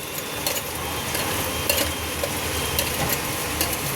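Chili paste sizzles in hot oil with fried ginger in a pan, a steady frying hiss broken by a few scraping stirs of a spatula, close up and without talk.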